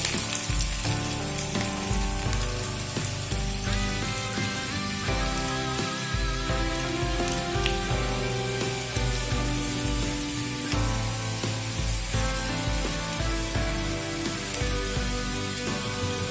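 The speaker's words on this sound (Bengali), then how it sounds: "আদা আর রসুনটাকে একটু ভেজে নেব।" Chopped ginger and garlic sizzle steadily in hot oil left over from frying pakoras, a dense continuous crackle heard under background music without speech.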